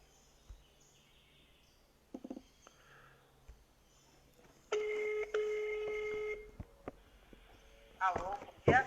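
A telephone call is placed: DTMF keypad beeps, then a steady ringback tone that repeats, loud and close, with brief clicks and handling noise around it and no speech over it.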